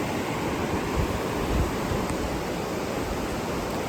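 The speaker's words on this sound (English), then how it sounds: "we got to enjoy the lovely views of this rushing river." The broad rushing flow of the 10 Mile River in Connecticut, a dense, steady roar of water heard up close without any break or voices.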